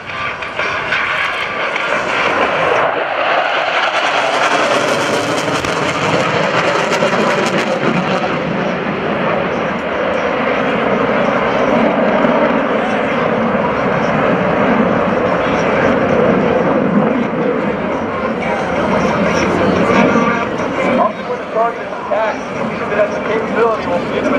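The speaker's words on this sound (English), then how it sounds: "A-18C Hornets returning at a low altitude at a speed of 500 miles per hour" F/A-18C Hornet jets making a low pass at about 500 feet and 500 mph during a naval air power demonstration at an airshow, a loud sustained jet roar filling the whole stretch with an announcer talking over it.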